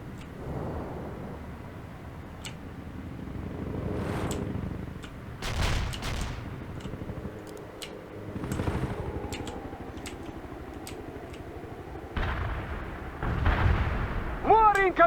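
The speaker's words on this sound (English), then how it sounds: "I have incoming mortars!" Mortar and artillery shells burst in the World in Conflict battlefield, several loud booming impacts at irregular intervals, some near and some distant, with rumbling aftermath between hits and brief voices under the barrage.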